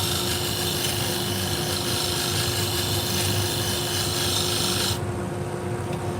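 A shear sharpening machine grinds salon shears with a steady, loud rasping whir that holds evenly throughout, its bright upper hiss cutting off near the end while the low grinding continues.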